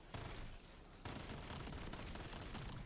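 Rapid bursts of automatic gunfire from a weapon fitted with the Anvil attachment in Black Ops 7 Zombies, loud and close, with a short gap before the firing resumes steadily to the end.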